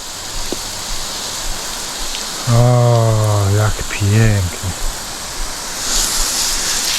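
Water from a hose shower sprays onto horses during hot weather, a steady broadband hiss running throughout, close and fairly loud, while someone speaks briefly in the middle.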